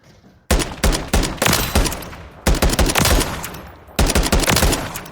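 A SCAR conversion in Call of Duty MWIII fires in rapid, close, loud strings of sharp shots, in three separate volleys with short pauses between them and no talk.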